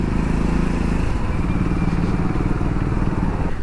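A Triumph Scrambler 400X motorcycle rides through city traffic, its engine droning steadily up close with rough wind and road noise mixed in, loud and continuous throughout.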